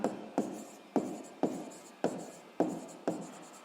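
A pen writing on paper: a series of close, quiet scratchy strokes, each starting with a sharp tap and trailing off, repeating roughly every half second with no talk over them.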